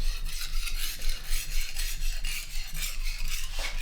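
Steel knife blade drawn across a 6000 grit whetstone for a polishing pass, giving a steady close-up rasping scrape with soft rhythmic strokes throughout, no voices.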